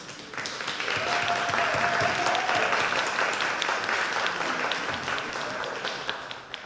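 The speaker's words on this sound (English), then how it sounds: "Let's applaud them." Symposium audience applauds, a dense, continuous wash of many hands clapping that swells quickly, holds steady and then tapers, with a brief voice audible briefly.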